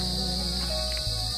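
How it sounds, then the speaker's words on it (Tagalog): Crickets chirp steadily in a leafy hillside view spot, making a continuous high, shrill trill under a constant background drone. "Makikiririnig nyo ang mga kuliglig."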